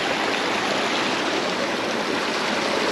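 A river stream flows steadily with a dense, even rush of water, close and constant throughout, with no voices.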